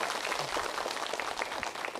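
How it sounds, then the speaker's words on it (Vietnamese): Soft, fairly distant applause from an audience at a Buddhist temple talk, a brief patter of clapping hands at low volume with no voice over it. "cho một tràng pháo tay đến với đáp án nha"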